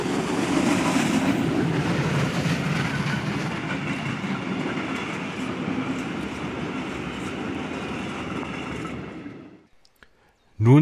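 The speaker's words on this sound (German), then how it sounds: "58 1111 mit ihrem Güterzug." Steam locomotive 58 1111 hauling a freight train rumbles loudly past for about nine seconds with a steady rolling roar and rail clatter, then drops off abruptly before a brief loud burst at the end.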